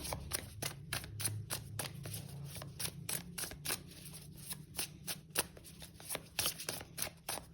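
Tarot cards are shuffled by hand in rapid, crisp riffling flicks, close and fairly quiet, in uneven bursts that run steadily throughout.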